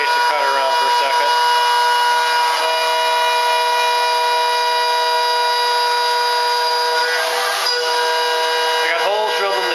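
A router spins steadily on a router table in a cramped home workshop, a loud continuous high whine holding for the whole stretch, with a slight dip in pitch near the middle and again at the end.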